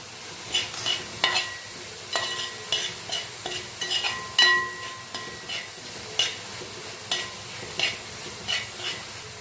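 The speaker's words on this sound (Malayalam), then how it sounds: "ആവശ്യത്തിനുള്ള മഞ്ഞൾപ്പൊടിയും ഉപ്പും മുളക് പൊടിയും കൂടെ ഇട്ട് കൊടുത്ത് നല്ലതുപോലെ ഇതൊന്ന് വഴറ്റിയെടുക്കുക" Sautéing in a pan with turmeric, salt and chili powder for tomato egg rice, a soft sizzle broken by repeated close scraping strokes of a spoon at an uneven pace, with no talk.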